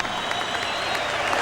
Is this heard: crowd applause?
yes